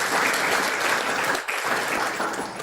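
A church congregation claps steadily throughout, a dense, even wash of applause from many hands filling the room during a worship service.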